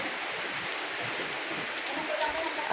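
Heavy rain pours down steadily, a dense, loud hiss of drops drumming on surfaces with no break, close and enveloping throughout.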